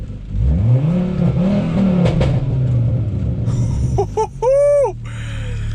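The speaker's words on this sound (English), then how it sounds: "Let's rev it up." A tuned Volvo S60R with a stage 2 tune and new injectors revs up close by, rising and falling in a deep throaty sweep, then several sharp quick blips climb high before the idle settles again.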